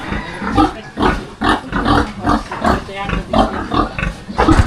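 Pigs, including a breeding sow, grunting loudly and repeatedly in their pen in a rough rhythm of snorts and grunts close by. A voice is mixed in with the grunting.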